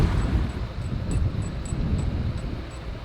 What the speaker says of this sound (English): It's already windy.